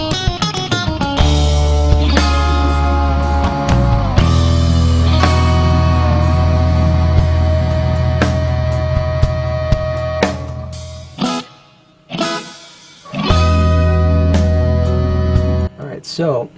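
Live recording of a full drum kit with untreated, un-EQ'd, uncompressed toms playing within a loud band mix, steady rhythmic hits throughout, a brief drop near the end before the music returns.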